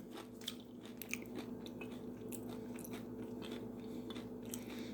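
Crisp crunching bites and chewing of battered fried chicken close to the ear, several sharp crackles scattered over a quiet background hum.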